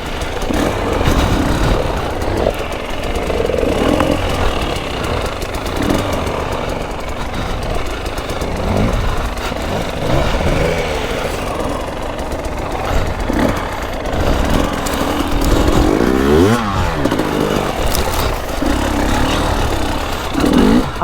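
A modded dirt bike engine runs loud and close, revving and rising with gritty, knocking vibration as the rider hops the bike, engine tone sweeping up and down throughout.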